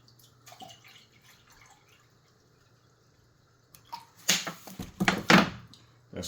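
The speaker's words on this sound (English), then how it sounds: "3 cups of water to this other pot right here." Water is poured from a container into a cooking pot while making Turkish delight, a brief gushing splash that builds in bursts near the end after a few quiet drips and clinks.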